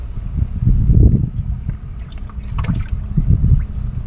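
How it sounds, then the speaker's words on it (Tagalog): A boat engine starts up on a fishing trip after tilapia, giving a loud, steady low rumble with uneven surges and wind buffeting the microphone. "Papaandar ng makina."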